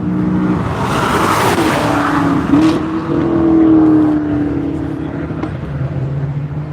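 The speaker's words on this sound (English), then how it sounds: "I think next we got Chris in the On the Ledge Racing Camaro" The On the Ledge Racing Camaro race car works around a track, its engine droning and shifting pitch as it revs, with a brief tire squeal, loud and fairly close, and some faint talk underneath.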